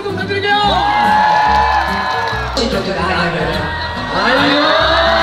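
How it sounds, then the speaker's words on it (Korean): Baseball stadium crowd cheering, whooping and shouting, loud and dense, with a tonal horn or chant-like layer over it and a brief dip before the noise swells again. "박수 한번 부탁드릴게요!"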